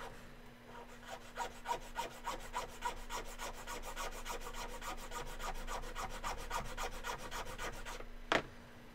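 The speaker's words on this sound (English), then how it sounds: "I'm just kind of filing something to shape." Hand file working a piece to shape, a brisk run of regular rasping strokes at a steady rhythm, close and fairly quiet, ending with a single sharper scrape.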